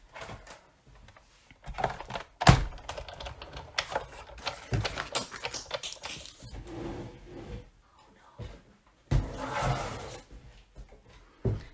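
A Big Shot die-cutting machine is cranked while cutting snowman card pieces, giving irregular mechanical clunks, rattles and grinding passes over roughly twelve seconds, with louder thumps at moments and no talking.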